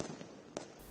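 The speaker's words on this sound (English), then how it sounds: "Despite the rule, fireworks were seen across the capital well past midnight," Fireworks going off across Delhi during Diwali, heard as a faint, diffuse crackle with one sharp distant pop partway through, no voices present.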